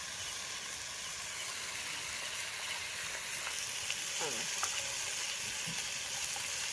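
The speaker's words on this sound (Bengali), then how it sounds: "মাংস কষাবো ঝোল করবো ঠিক আছে" Chicken curry sizzles and fries steadily in a pan, with intermittent scraping and stirring strokes over a constant hiss, close and fairly quiet, no talking.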